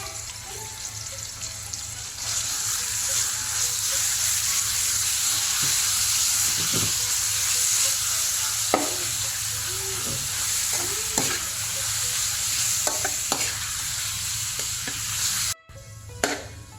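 Pork goes into a hot pan for a Thai holy basil stir fry, and a loud continuous sizzle bursts up after a quieter start. Stirring and scraping clatters come through the frying, which cuts off abruptly near the end.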